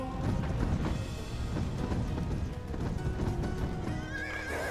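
Horses in Age of Empires II Definitive Edition give a loud whinnying neigh over rapid clip-clopping hooves, with a brief chime near the end.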